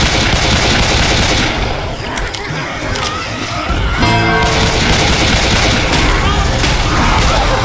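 Rapid automatic gunfire and shots in the Dark Carnival campaign of Left 4 Dead 2, loud and dense across the whole stretch, with chaotic game effects and bursts of fire layered together.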